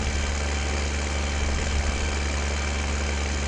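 Tractor engine idling steadily in a farming video game on PS4, a constant low rumble with a mid-range hum, continuous and unchanging throughout.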